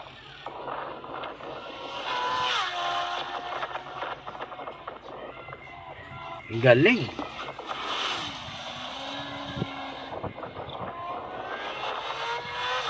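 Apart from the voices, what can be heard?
motorcycle engines, enduro-style bikes on farm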